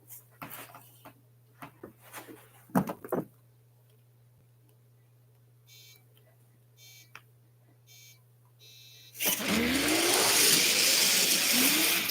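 An Aston Martin and a Mustang launch in a drag race; after quiet ticks and scattered clicks, the engines burst into a loud, sustained roar in the final seconds as the cars accelerate away.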